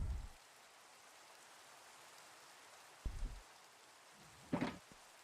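Steady hiss of rainfall in Minecraft runs throughout, broken by a few brief soft thumps and one sharper knock near the end; no one speaks.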